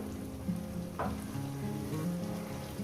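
Spiced masala paste for chicken curry sizzles and fries steadily in a pan after the water from rinsing the spice bowl is added, a continuous close hiss with no voices.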